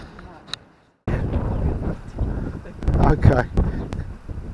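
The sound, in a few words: wind blowing by the coast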